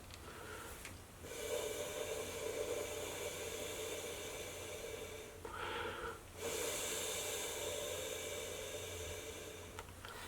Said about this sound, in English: now I'll blow on it and you'll see what the sound is